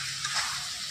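Meat drops into a pan of browned onions and spices while cooking an Indian dish, giving a steady close sizzle with a few brief crackling swells and no talking.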